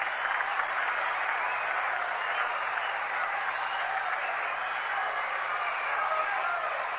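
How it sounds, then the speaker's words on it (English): Baseball crowd at the Polo Grounds in New York applauding steadily, a broad, even wash of clapping that holds at a constant level throughout, distant and dense with no individual voices standing out. "An appreciative response from the crowd here at the Polo Grounds."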